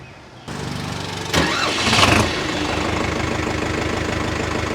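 A Farmtrac 6055 4x4 tractor diesel engine, without CRDI, cranks briefly and catches, then settles into a loud, steady, rhythmically knocking idle close by.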